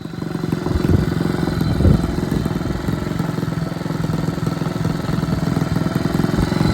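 A 1962 Honda Super Cub 50 motorcycle engine, a barn-find bike, idles on its own with a fast, even putter that stays steady and close for several seconds.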